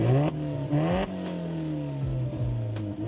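A 2-litre four-cylinder BMW engine with a damaged exhaust revs in several quick blips, each rising and falling sharply, with a raspy, buzzy tone close to the microphone and no talking.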